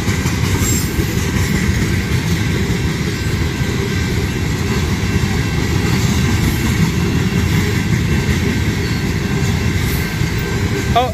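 Union Pacific manifest freight train, westbound, led by Tier 4 locomotives with distributed power units, rolls steadily past at close range with a loud continuous rumble and wheel clatter throughout.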